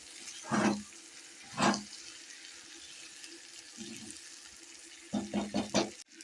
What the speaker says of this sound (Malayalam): ലേശം വെള്ളം കൂടെ ഒഴിക്കണം